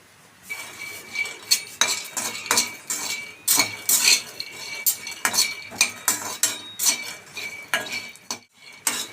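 Peanuts being dry-roasted in a pan, stirred continuously with a metal spoon, giving a steady run of close scraping and clinking strokes against the pan with rattling nuts throughout.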